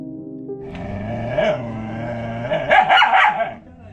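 A dog barks and growls close by on the hill trail at Malanggad, Maharashtra, a deep drawn-out bark followed by a burst of louder, rougher barking.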